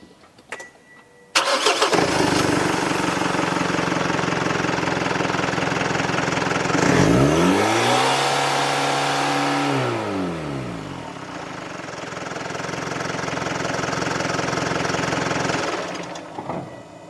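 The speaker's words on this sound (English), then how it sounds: "I'm going to start up the engine while you guys take a look at that pressure reading. At first, I'll let it idle and then I will hit the throttle." A diesel engine cranks and catches, then settles into a steady, loud idle before the throttle is blipped, its note sweeping up and back down, then holding at a raised drone until it cuts off near the end.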